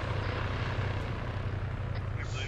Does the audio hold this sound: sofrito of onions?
no